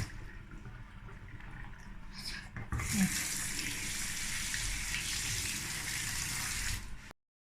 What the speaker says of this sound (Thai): เปิดน้ำ